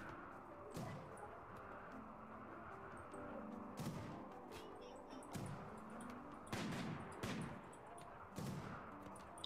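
Gunfire in the video game RimWorld during a raid: several sharp, spaced shots crack out at moderate level over a low background din, arriving irregularly every second or two.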